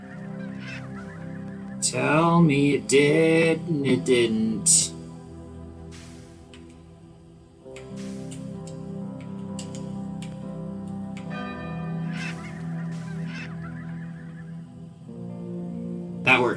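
Cartoonish goose-like birds honk repeatedly in NEO: The World Ends with You, loud and clustered early, then recurring over game music while a person briefly speaks.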